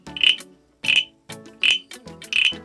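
A person imitates a frog croaking, making four evenly spaced, raspy croaks up close with short silences between them.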